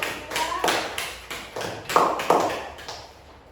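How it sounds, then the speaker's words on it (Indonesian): A short burst of classroom clapping for a student group, several uneven claps and taps over a few seconds, fairly close and moderately loud, with faint voices in the background. "beri tepuk tangan dulu yang untuk kelompok"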